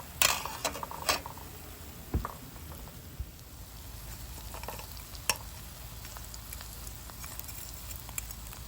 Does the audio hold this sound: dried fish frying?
yes